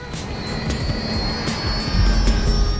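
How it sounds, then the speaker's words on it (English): Jet aircraft fly overhead in GTA 5, a loud steady engine roar with sharp intermittent bursts and whine, and no voices on top. "I see these jets like boom, boom."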